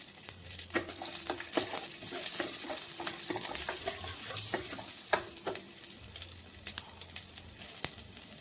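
Green chillies sizzle and fry in a pan with steady crackling spatter, punctuated by occasional sharp pops and stirring scrapes, close up with no talk.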